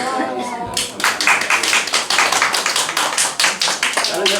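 An audience at a lecture on instructor skills claps in quick, loud, rhythmic bursts that continue steadily after a brief voice at the start.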